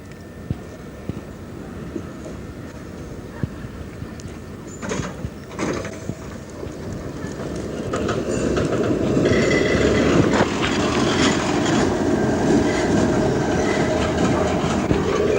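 A Berlin tram crawls around a turning loop, with steady rolling rumble, wheel clicks and squeals, and mechanical clunks growing louder and nearer over about fifteen seconds.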